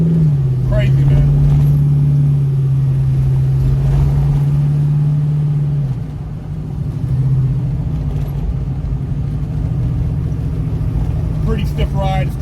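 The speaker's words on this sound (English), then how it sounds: "It's almost surreal driving the car right now." A 600-horsepower Chevelle on coilovers and larger tires cruises down the freeway, its engine holding a deep, steady drone with road rumble underneath, and a voice talks over it from inside the cabin.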